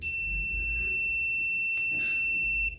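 Multimeter continuity beep while testing a microwave microswitch: a steady, piercing electronic tone held for nearly three seconds with a small click partway through.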